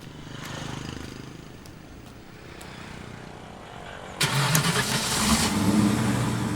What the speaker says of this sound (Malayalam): വണ്ടി ഒന്ന് സ്റ്റാർട്ട് ചെയ്യൂ